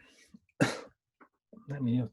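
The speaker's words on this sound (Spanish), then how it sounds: "no sé por qué me empezó a tos" A few short, harsh coughs, close by, with brief pauses between bursts and a throaty, voiced catch at the end.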